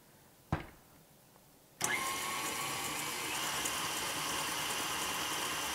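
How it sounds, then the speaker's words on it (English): An electric mixer whirs steadily through gluten-free chocolate brownie batter after a short knock, a constant loud motor hum that runs alone to the end. "I'm just going to stop the mixer once again and just scrape down the sides"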